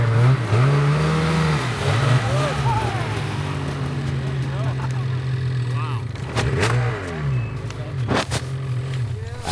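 Snowmobile engine firing up outdoors in back-country snow, a close, loud steady drone with several sharp revving surges and shifts in pitch while voices talk over it.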